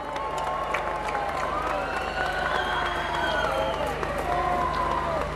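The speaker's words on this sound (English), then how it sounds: "could we have a huge round of applause for all the bands that's been on this stage tonight?" A large festival crowd at Cropredy applauds and cheers for the bands, with sustained clapping, whoops and whistles forming a dense wash of noise that holds steadily for several seconds.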